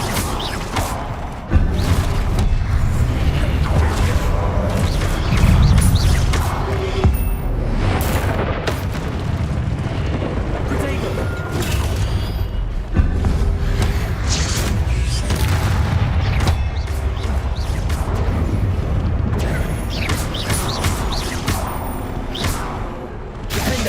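Confringo spells in Hogwarts Legacy detonate as repeated loud, booming fiery explosions with whooshes and crackling debris, one blast after another over a sustained magical battle; no talk.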